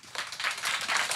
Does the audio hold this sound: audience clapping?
yes